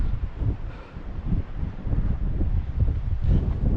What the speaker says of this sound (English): It's getting a little bit windy now,